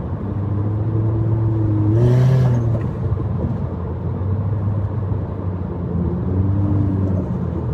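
A Toyota Altis car engine idles with a steady low rumble, then revs up once with a rising whine before settling back, with a second lighter rev near the end, close and loud.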